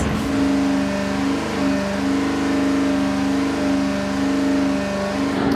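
An engine on a dynamometer holds a steady 3,000 RPM, a loud, even drone that stays constant from start to finish with no talking over it.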